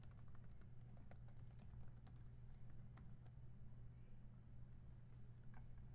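Fingers type a title into a PowerPoint slide on a computer keyboard, giving scattered soft key clicks at an irregular pace over a steady low hum, with no talking.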